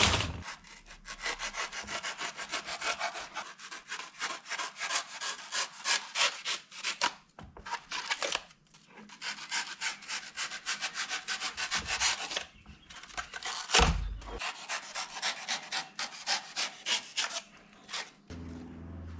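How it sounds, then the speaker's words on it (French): Hand saw cutting through wood to rough out a cone shape in a workshop, a steady rhythmic rasp of strokes running almost continuously with two brief pauses, loud and close. "il va falloir que je vienne couper pour donner la forme du cône"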